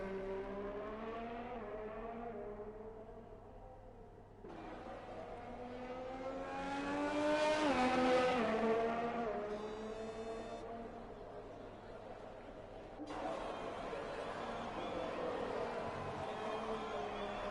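A Ferrari Formula 1 car engine in the F1 2020 racing game whines steadily on an out-lap at the Netherlands circuit, pitch climbing and falling through gear changes, with a quiet voice underneath.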